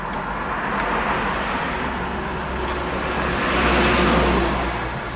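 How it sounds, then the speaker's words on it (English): Steady road traffic noise fills the background, a broad continuous rumble that swells briefly as a vehicle passes nearby. "Too much traffic noise out there, right?"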